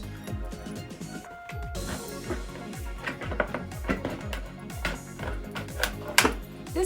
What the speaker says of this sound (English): And then I'll use my scissors to cut around.